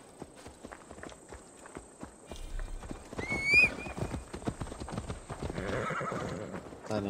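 Steady clip-clop of a horse's hooves in Assassin's Creed Valhalla, with a sharp whinny partway through, as the horse walks and then picks up pace through a quiet game scene with some faint voices.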